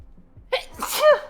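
A single sharp human sneeze, close and loud, with a quick breathy intake before the burst.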